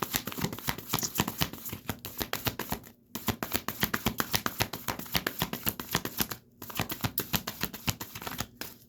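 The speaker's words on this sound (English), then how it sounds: "Ew, I don't like that shuffle." Tarot cards shuffled by hand in rapid, crisp riffling bursts, continuing steadily for several seconds with two brief pauses, close and clear with no talking.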